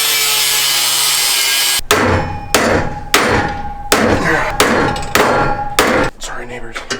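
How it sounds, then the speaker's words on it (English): A hammer pounds the hood of a Mustang GT in a series of about six loud, irregular metallic blows, each ringing briefly, after a stretch of steady rasping noise. "let's go hit it with a hammer one more time"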